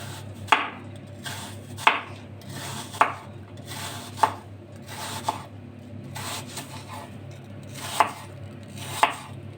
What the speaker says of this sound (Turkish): elmalarımı hızlı bir şekilde doğrayacağım arkadaşlar